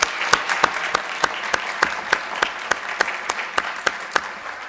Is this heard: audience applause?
yes